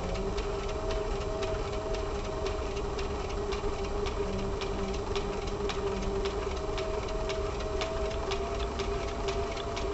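A sewing machine stitches a crossbody bag seam, a steady close mechanical whir with rapid needle ticks running continuously and evenly throughout, with no talking.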